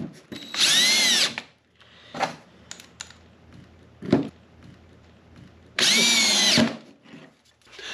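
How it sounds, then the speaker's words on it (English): A power drill driving in screws whirs loudly in two short bursts, a few seconds apart, with light clicks and handling noises in the pause between. "now you're ready to drill in screws"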